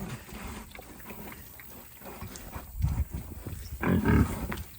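Pigs in a muddy farm pen after days of rain grunt and snort close by, low rough bursts that swell louder toward the end against soft outdoor noise.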